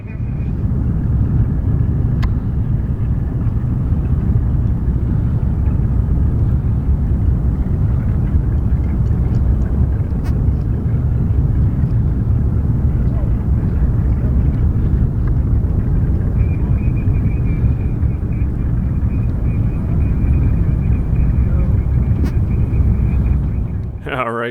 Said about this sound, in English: the B25 taxiing out right now, she is following the TBM Avenger